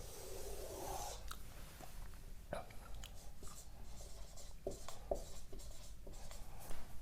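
Pen scratching on paper while someone writes out a reasoning-puzzle arrangement, with short irregular strokes and taps close by, steady and fairly quiet throughout, with no talk.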